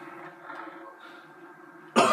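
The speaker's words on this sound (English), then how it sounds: "this cough isn't really helping me" A single sharp cough bursts out loud and close at the end, after a stretch of quiet, low droning game sound from Doom 3: Resurrection of Evil.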